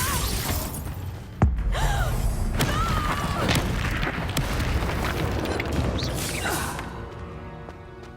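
Confringo and Reducto spells explode in Hogwarts Legacy combat: a sharp booming crack lands early, followed by a dense, sustained rumble of blasts and shattering debris that slowly fades.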